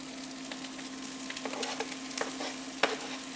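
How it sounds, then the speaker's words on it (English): Chopped, blanched broccoli rabe sizzles in a hot pan with a steady crackling hiss, punctuated by a few sharper pops and stirring scrapes, close up and without talk. "Hear that sizzle."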